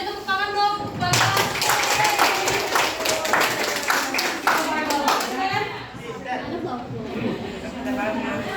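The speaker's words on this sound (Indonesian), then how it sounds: "Oke, tepuk tangan dulu." A classroom group claps hands in quick, steady bursts, with children's voices chattering underneath and a brief lull before clapping resumes.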